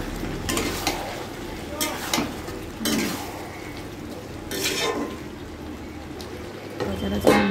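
Meat with yogurt cooking in a pot with a lid on, giving a steady low sizzle with a few clinks and stirring scrapes from the pot, close by, with no talking.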